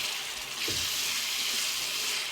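Chicken pieces for a Nepali chicken pickle frying in a pan, giving a steady close sizzle with a light watery bubbling texture throughout, no voices.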